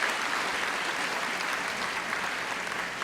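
Audience applause at a graduation ceremony, a steady, dense wash of clapping from a crowd that holds evenly for about three seconds with no voices over it.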